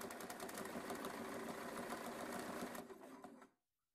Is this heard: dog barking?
no